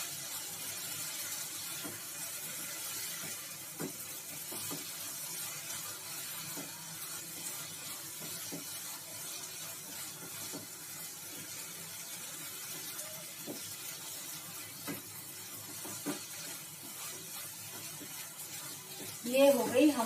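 Onion, tomato, ginger and garlic sabzi with fresh coriander being stirred in a pan, giving a low sizzle and hiss with scattered soft scraping taps throughout, while someone talks over it.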